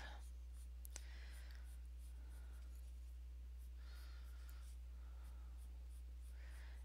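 Colored pencil shades across paper in soft, repeated scratchy strokes, a faint close-up scribbling with rhythmic pauses over a low steady hum.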